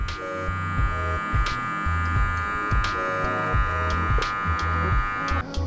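Electric hair clippers trimming a beard with the lever fully open, a close, steady buzzing hum with repeated short bursts and pauses as the corners lay down the line.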